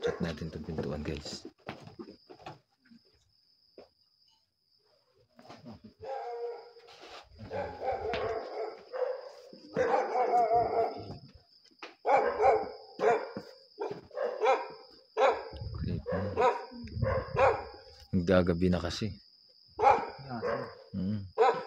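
A dog barks now and then near a door at a dwelling, mixed in with people talking over a faint steady whine.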